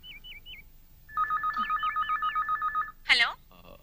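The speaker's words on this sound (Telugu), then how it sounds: "ఓ ఎస్టీడీ చేసుకోవాలి" A landline telephone is dialed for a long-distance STD call. A few short warbling chirps are followed by a clear, evenly pulsed ringing tone, then a brief louder burst.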